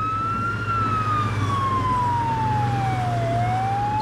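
An ambulance siren in the OMSI 2 bus simulator game wails in a slow rising and falling sweep over a steady low engine hum, loud and continuous throughout.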